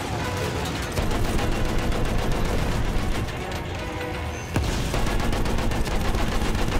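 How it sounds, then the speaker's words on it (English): Battlefield 1 gunfire, continuous rapid shots rattling loudly through a dense battle soundscape with brief lulls. "Look, I'm shooting straight"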